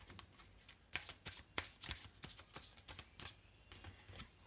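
Tarot cards being shuffled and drawn: a quick run of crisp, papery snaps and riffles, close and fairly quiet, with no voices.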